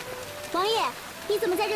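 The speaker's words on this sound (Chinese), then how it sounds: "王爷，你怎么在这淋雨啊？" Rain falls in a historical Chinese drama scene as a steady, even hiss that runs throughout, heard under two short bursts of spoken dialogue.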